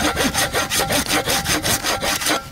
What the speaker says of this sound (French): Si on peut vraiment appeler ça une scie, puisque je viens d'essayer là sur du bois pourri